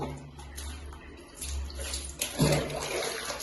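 Water poured and splashing while a cat is bathed, a steady running gush that swells and sloshes toward the end, close and moderately loud.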